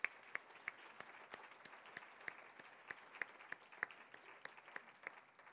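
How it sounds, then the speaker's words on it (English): Applause from the audience at a community federation celebration, faint and distant, with scattered sharp claps over a light, steady patter that continues throughout. "Please give Shep and his lovely wife, Haley, a round of applause."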